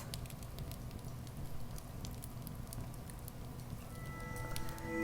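A small fireplace fire from a meditation app crackles and pops irregularly over a low rumble, with a faint tonal hum creeping in at the end.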